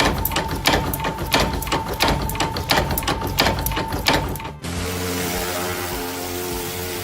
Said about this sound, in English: a flat sheet of metal is punched and pressed into a smooth,